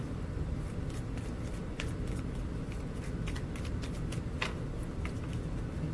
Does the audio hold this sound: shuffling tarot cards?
yes